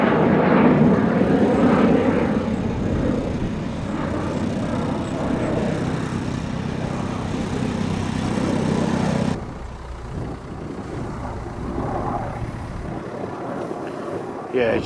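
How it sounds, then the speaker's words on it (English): A fixed-wing plane passes overhead on arrival day at the RIAT Fairford airshow in 2022, a loud, broad, steady engine roar that fills the scene, then eases back to a lower rumble partway through. "Just got a plane coming over"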